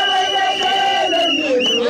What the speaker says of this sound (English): The athletes were happy with the Kenyan fans who came out in large numbers to cheer them to victory.